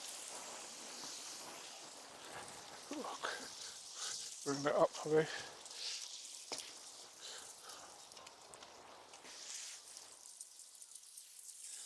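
Light rain patters and hisses steadily on a garden in the background, faint and continuous, while a person speaks briefly over it.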